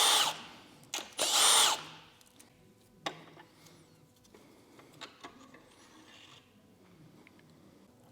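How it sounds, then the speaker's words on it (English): A power tool unbolting the engine girdle on an Evo 8, two short loud whirring bursts near the start followed by scattered faint clicks and knocks of loosened hardware. "for now I'm just gonna unbolt the girdle so I can get a better visual as to what's going on."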